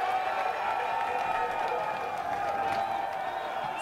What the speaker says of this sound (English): I like the cheering there.